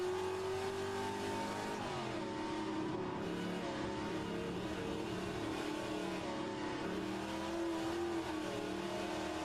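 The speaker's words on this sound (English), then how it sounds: "Take care, there's a car approaching." A racing car in a Trans Am racing video game, featuring a Cuda, drones steadily with a mid-pitched engine that rises and shifts as it revs, continuous and moderately loud with no talk.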